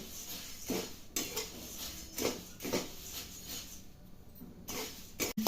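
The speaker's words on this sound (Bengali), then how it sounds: "কড়াই বসিয়ে গরম করে নিচ্ছি। মুড়িটা কিছুক্ষণ গরম করে নিচ্ছি।" Puffed rice heated and stirred in a wok, with repeated metallic scrapes and clinks of a spatula against the pan at an uneven rhythm, close and fairly quiet.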